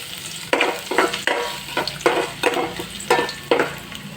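Ginger frying in a little oil in a cooking pot, with a steady sizzle broken by about eight rhythmic bursts as it is stirred and tossed, close and fairly loud with no talking.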